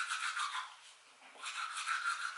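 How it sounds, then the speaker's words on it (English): Toothbrush scrubbing teeth up close, a steady wet back-and-forth bristle rasp with a brief pause midway, heard alone without talk. "when I was brushing my teeth, a good amount of, like, excess food came out"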